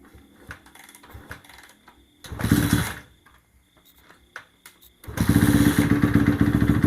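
A Honda CRF250R dirt bike engine sputters to life, idles briefly, then revs hard and loud with a rough, rapid rattle.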